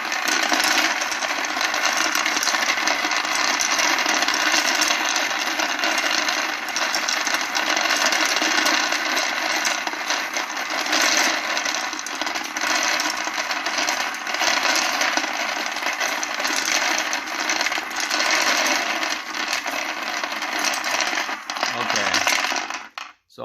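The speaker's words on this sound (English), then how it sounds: "I'll go ahead and turn on the case feeder" Hornady Lock-N-Load progressive press case feeder running while loading 9mm brass, a loud, steady metallic clattering and rattling of cases tumbling that continues unbroken for the whole stretch, then cuts off at the end.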